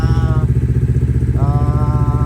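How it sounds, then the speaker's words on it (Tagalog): A motorcycle engine idles steadily in freezing cold after being started, giving a rapid, even low-pitched putter, loud and close, with no voices. "In-start lang natin yung motor."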